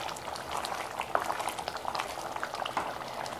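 Gujarati lima bean curry bubbling and simmering in a pot, a steady soft boil with scattered small pops, fairly faint and close, with no talking.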